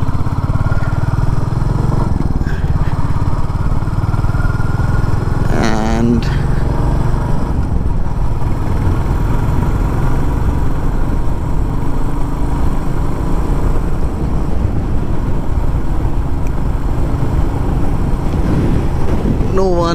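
Royal Enfield Bullet 350 motorcycle riding steadily at speed, a loud continuous engine drone with heavy wind buffeting at the microphone, a brief speed change partway through.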